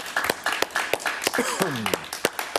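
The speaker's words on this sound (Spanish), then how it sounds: "Un aplauso para él" A studio audience on an interview show claps for an arriving guest, sharp scattered claps heard close and under ongoing talk.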